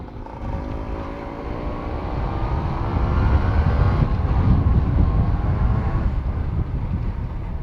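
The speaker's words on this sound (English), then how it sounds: "Crazy exhaust note he have on his Suzuki Shaolin." Ported Suzuki Shaolin motorcycle exhaust, heard while riding along a city lane: a loud, deep, rumbling drone that holds steady and swells slightly toward the middle, with no speech.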